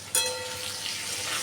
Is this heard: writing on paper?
no